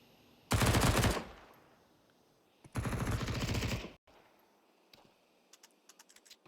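Pistol gunfire rings out in a Counter-Strike match as two loud rapid bursts of shots, then a few faint scattered clicks and taps.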